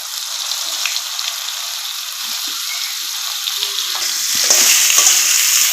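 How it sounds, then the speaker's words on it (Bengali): Cauliflower pieces frying in hot oil in a pan, a steady broad sizzle with occasional stirring clinks and scrapes, growing slightly louder toward the end, with no talking. "এখন কপিটাও ভেজে নিব।"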